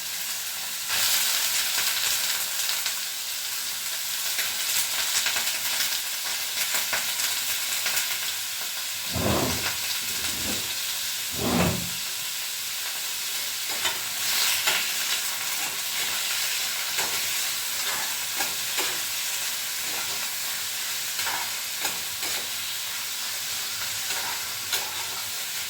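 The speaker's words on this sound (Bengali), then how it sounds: "পনিরগুলোকে হালকা ভেজে নেবো আমি।" Paneer cubes fry lightly in a pan, a continuous close sizzle with intermittent scraping and clinking from stirring, a few louder thumps near the middle.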